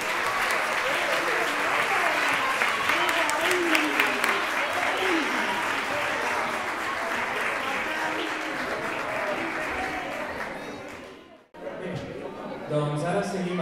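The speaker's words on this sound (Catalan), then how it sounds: "Un aplaudiment per tothom." An audience in a hall applauds after a children's choir concert. The sustained, dense clapping stays loud for about eleven seconds, stops abruptly, then gives way to a brief quieter stretch of room murmur.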